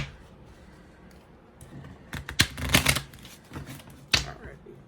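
Small tarot cards are shuffled close by in a few quick, papery bursts of riffling and flicking through the middle of the clip, with quieter handling before and after.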